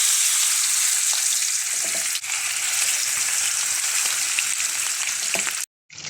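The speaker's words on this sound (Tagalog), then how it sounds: "prito na natin ang ating isda." Fish frying in hot oil, a steady loud sizzle and crackle that holds for several seconds before cutting out briefly near the end.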